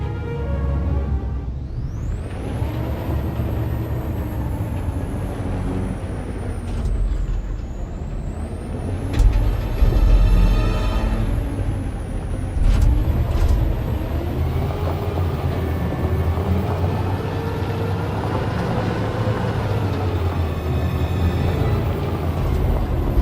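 A heavy truck engine in the video game Detroit: Become Human rumbles and revs continuously, with rising and falling pitch as it drives, loud and close with no talking.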